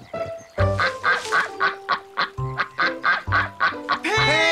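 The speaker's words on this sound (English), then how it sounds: "A clue like a quack." Loud cartoon duck quacking from Bananas in Pyjamas, a steady series of about a dozen nasal honking quacks in quick rhythm, close and alone without speech.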